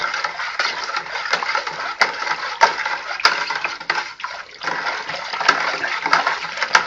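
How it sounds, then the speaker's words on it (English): A sanitized spoon stirs a dark hard cider mix in a full homebrew container, giving continuous close sloshing and swirling water with irregular splashes and faint scraping, steady throughout without talk. "So I'm going to take my sanitized spoon and give this a good stir."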